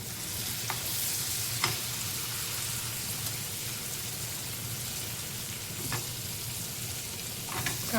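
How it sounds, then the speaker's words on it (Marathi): Green chillies frying in oil in a pan, a steady bright sizzle with occasional soft taps of a spoon, close and continuous. "हिरवी मिरची टाकूया थोडी आपण"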